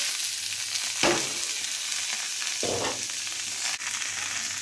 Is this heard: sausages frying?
yes